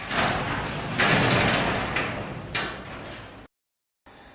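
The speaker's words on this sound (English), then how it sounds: "Once the door is disengaged," A garage door, freed from its automatic opener, is lifted by hand with a loud rolling, rattling rumble that surges in several pushes, then stops abruptly.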